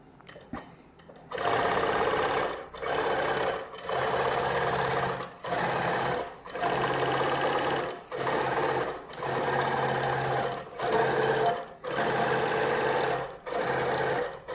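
A computerised quilting machine stitches a design at 10 stitches per inch and half its maximum speed, a loud steady mechanical whir running in repeated bursts of about a second each with brief pauses between them, close and alone.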